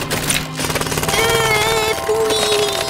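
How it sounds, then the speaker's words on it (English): A jackhammer pounding on frozen stream ice in a cartoon outdoor scene, a loud, rapid continuous hammering layered with bright musical tones, no talking. "Jackhammer!"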